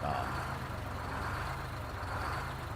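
A heavy two-stroke Detroit diesel truck engine idles steadily in American Truck Simulator, its low rumble hunting slightly up and down, with no voices over it.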